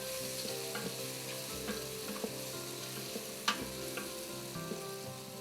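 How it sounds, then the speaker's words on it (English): Beef bourguignon searing in a pot while being stirred: a dense, steady sizzle with scattered scrapes and clicks of the utensil, plus one sharp clack midway. No one speaks. "I've got to stir it because I've left it be for a while"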